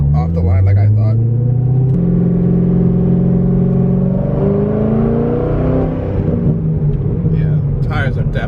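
All-wheel-drive car launching off the line in a race, its engine revving hard and climbing through gears with a steady loud rumble and whine inside the cabin, brief voices near the start and end.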